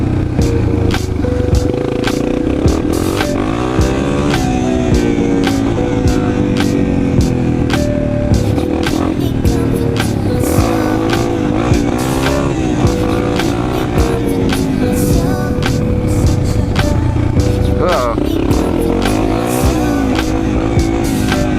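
A new 2019 Jeep Wrangler drives hard, its engine loud and close as it accelerates and shifts through the gears, with pitch climbing and resetting over a constant rumble.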